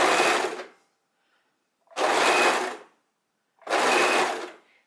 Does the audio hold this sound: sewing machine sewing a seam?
yes